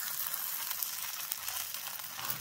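A savoury fasting dhirde (pancake) sizzles steadily in a pan, giving a soft, continuous frying hiss without a break and with no talking over it.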